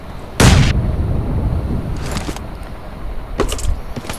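A grenade blast and gunfire in PUBG on the Livik map: one sharp explosive burst followed by a few scattered shots further off.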